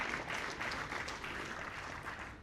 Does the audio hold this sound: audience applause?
yes